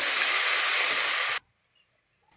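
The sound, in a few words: vegetables with ginger garlic paste frying in a pan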